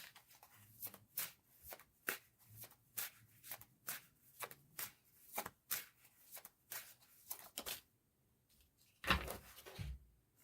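Tarot cards get shuffled by hand in a quiet room, producing a series of soft, crisp riffling bursts at an irregular, roughly steady pace. A louder shuffle near the end stands out, and nobody speaks.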